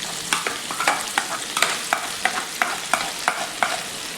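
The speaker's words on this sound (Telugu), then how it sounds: "ఏమంటే ఎల్లుల్లి కారం వేసుకుని ఇవన్నీ బాగా కలుపుకోవాలి." Ivy gourd pieces being stirred with garlic chili powder in a bowl, a steady run of close scraping, clacking stirs about every third of a second, with no voices.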